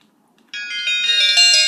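A phone ringtone plays from the sound settings menu, a bright electronic chime melody that starts abruptly and rings steadily and fairly loud, alone with no talk.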